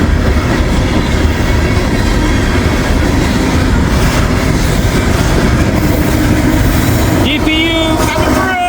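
A hard-working freight train with a distributed-power locomotive rolls past close by, its heavy engine roar and steady wheel clatter filling the air, with a faint squeal near the end.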